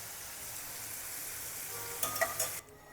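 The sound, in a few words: garlic cloves frying in oil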